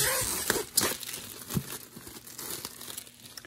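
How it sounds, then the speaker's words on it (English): Plastic wrapping is peeled off the box of RCA wireless TV headphones, a close run of crinkling and crackling bursts with a few sharper tearing snaps, no one speaking. "Peel all of this off."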